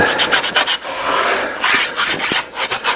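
Edges of a carved wood relief are deburred by hand, giving a rapid series of close, raspy rubbing and filing strokes in an uneven rhythm over a few seconds, with no talking.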